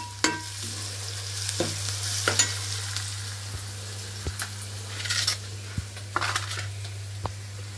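Chopped onions fry in a pan with a continuous sizzle, punctuated by sharp clinks and scrapes of a utensil stirring them, close and without speech.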